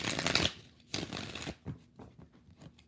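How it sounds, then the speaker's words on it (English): Tarot cards being shuffled up close, a few quick riffling bursts followed by softer card handling, no voices. "Last shuffle."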